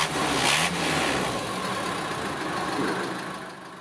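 A car engine runs steadily during an exhaust smoke test, a broad rough rumble that starts loud, holds for a few seconds and eases slightly toward the end, with no talking.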